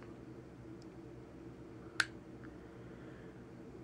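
A Smith & Wesson Shield Performance Center pistol trigger makes a single sharp, brief click midway through an otherwise quiet stretch of faint room noise.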